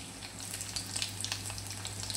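Chopped garlic sizzles in hot oil with mustard seeds and cumin as a tempering for tur dal, a steady close crackling fry with small popping spatters and a low hum beneath.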